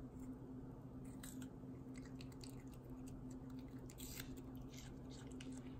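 A small dog eats paprika indoors, giving soft, wet chewing and squishy bites in a steady, close run over a constant low hum, with a few sharper crunchy clicks near the middle.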